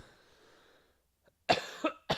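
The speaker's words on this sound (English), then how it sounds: "probably about 5 minutes total each episode coughing, clearing my throat" A quiet lull, then a sharp, loud cough followed by two more harsh coughs in quick succession, close by.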